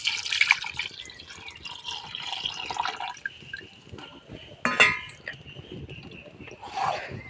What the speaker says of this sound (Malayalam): ഇനി ഞാൻ രണ്ടാം പാൽ ഒഴിച്ചു കൊടുക്കുകയാണ്